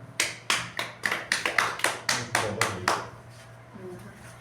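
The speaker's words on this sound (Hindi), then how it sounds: "यहाँ पर उपस्थित सभी डीएक्शन फैमिली के लिए भी एक जोरदार ताली।" A small audience clapping in a rhythmic series of about ten distinct claps, fairly close and moderately loud, then fading out toward the end.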